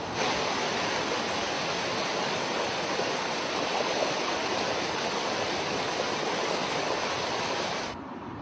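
River water rushes steadily past boulders set diagonally across the current at a weir, a loud, continuous broadband roar that holds unchanged before dipping slightly at the very end.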